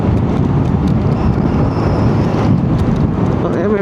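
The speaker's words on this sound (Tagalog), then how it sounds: "Lakas ang hangin kasi." Strong wind roars and buffets the microphone on a motorcycle ride, a constant low rumble with no breaks.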